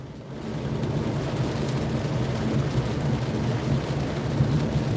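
Steady rain falling outdoors, a dense, even hiss that holds at the same level throughout with no voices.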